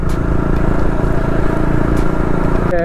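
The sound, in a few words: KTM Duke 250 motorcycle riding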